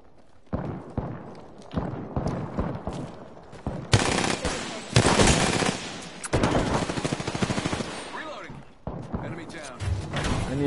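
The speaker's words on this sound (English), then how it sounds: "Shots fired, and they're hitting me." Rapid automatic gunfire from an Apex Legends firefight, bursts of shots crackling and thudding in quick succession with loud, dense volleys near the listener, mixed with game sounds and voices throughout.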